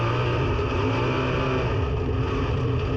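Sprint cars in a heat race at Ventura drone steadily at high revs, a continuous engine roar of several cars running laps, fairly loud with no talking.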